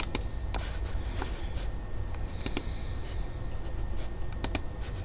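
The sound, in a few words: computer mouse clicking while playing Call of War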